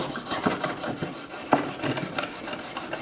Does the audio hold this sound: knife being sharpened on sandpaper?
yes